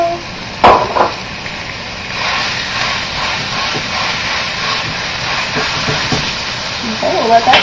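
Meat drops into a hot pan of caramelized onions for lasagna, starting with a sharp clatter and then settling into a steady, loud sizzling hiss that runs on without a break.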